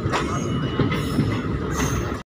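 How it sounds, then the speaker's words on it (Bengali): Malda Town–Katihar daily passenger train rolling into Kurethar station, a loud nearby rumble of wheels and carriages with squealing flange tones rising and fading, ending in abrupt silence. "আমাদের ট্রেন এসে এখন পৌঁছে এলো কুড়েঠার স্টেশনে"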